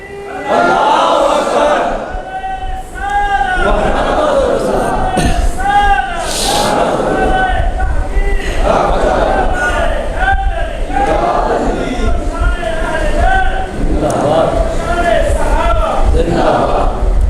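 A large crowd chants the religious slogan Nara-e-Haidari at a gathering, loud rhythmic call-and-response shouts repeating in waves, with a leading voice calling out between the crowd's replies.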